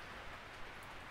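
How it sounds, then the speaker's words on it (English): Rain falling outdoors, a faint steady hiss of drops with no distinct events, low in level and continuous throughout. "We got traffic noise. We got rain. We got wind."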